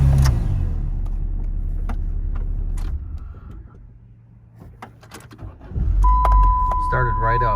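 A 2001 Saturn SC2 engine cranks and starts, its low steady rumble swelling louder near the end, with someone talking over it and scattered clicks and clunks around the car.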